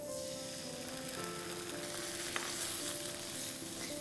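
Tomato puree sizzles hard over browned onions in a pan, a loud continuous hiss and crackle with no talking.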